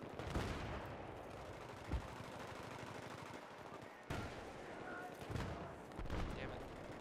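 Bursts of machine gun fire from a bipod gunner in a shooter game, dense rapid shots under continuous battle noise with a couple of sharper booms, heard at moderate distance.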